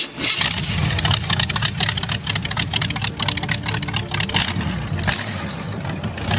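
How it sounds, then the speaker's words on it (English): A 1929 car fitted with a Chevrolet 350 small-block V8 rumbles loudly and close, a deep uneven idle with blips of revving running throughout, no talk. "The unmistakable sound of the Chevrolet 350 SBC engine with its 8 cylinders and at least 100 horsepower"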